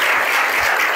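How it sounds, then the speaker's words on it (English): Audience applause for the speakers at the closing of the SME Assembly 2023 conference, a steady, dense wash of clapping across the whole second with no talk over it. "Round of applause for our speakers."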